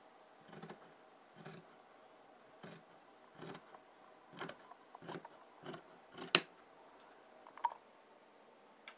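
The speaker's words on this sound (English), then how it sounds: "Just keep on cutting until you get to the end of the fabric." Scissors snipping through fabric up close, a series of separate crisp cuts at an uneven pace, clear against a quiet room with no voices.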